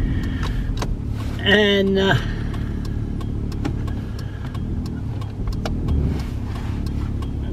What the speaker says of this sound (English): there's a car behind me.